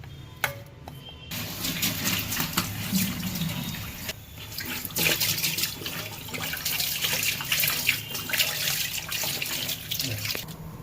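Tap water runs steadily into a sink while colocasia leaves are washed, with a continuous splashing stream and some scattered drips and clatter close by.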